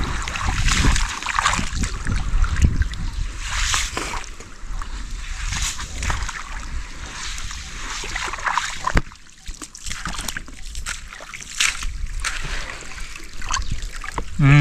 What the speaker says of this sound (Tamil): இப்போ தாங்க வந்து தண்ணி ஓரளவுக்கு விழுகுது